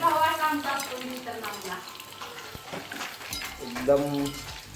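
Chicken 65 frying in bubbling oil for a Kolhapuri chicken meal, a steady crackling sizzle running under a person talking throughout.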